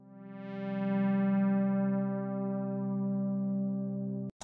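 Damp synth chords held as one sustained, harmonically rich chord, dry with no reverb, steady and moderately loud for about four seconds before cutting off abruptly.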